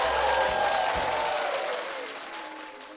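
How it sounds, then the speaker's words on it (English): A studio audience at a live game show cheers and applauds, a loud, broad wash of crowd noise that swells at first and then gradually fades over a few seconds. "that's a cheer for you guys and not for me"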